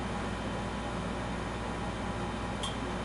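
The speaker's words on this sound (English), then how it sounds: "The background noise you're hearing is the air conditioner." Room air conditioner running on a sweltering day, giving a constant even broadband whoosh with a low rumble that fills the space from start to finish, with no voices.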